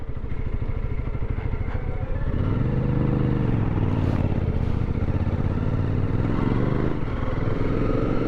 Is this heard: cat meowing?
no